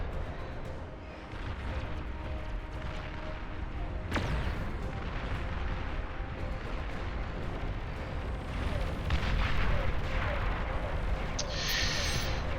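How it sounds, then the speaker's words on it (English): Catapults bombarding units in a strategy video game, heard as a dense continuous roar of battle with thuds and impacts layered throughout, fairly low and steady, with a sharp burst partway through. "they're getting bombarded by these catapults"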